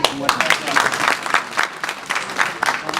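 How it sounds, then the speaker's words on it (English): Community association audience at a Birmingham election event clapping, uneven bursts of applause that rise and dip, fairly close, with voices mixed in. "Let's applaud them, please."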